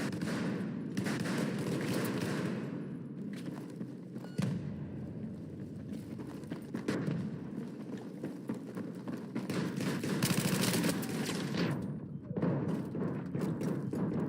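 Dense gunfire from the video game Battlefield 6, sniper rifles and shotguns cracking in overlapping bursts with thumps throughout, a steady loud battle din with no clear gaps.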